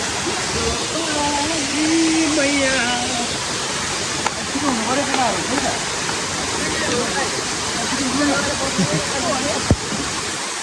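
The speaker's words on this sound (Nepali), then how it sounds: "कति ठुलो झरना रहेछ" A large waterfall in Shivapuri National Park roars as a constant, broad rushing wash, while hikers talk nearby over it.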